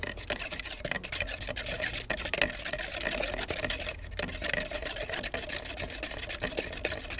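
2K clear coat being mixed in a plastic mixing cup for a headlight restoration, a steady scraping, sloshing stir that runs continuously at close range with no talk.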